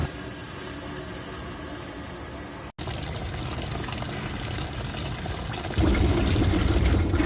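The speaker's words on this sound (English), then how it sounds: "I'm going to take the garden hose and flush it through the engine until I see the water becoming clear." Water from a garden hose rushes and hisses steadily as it flushes through an engine, briefly cutting out, then returns with a fuller, louder gushing flow near the end.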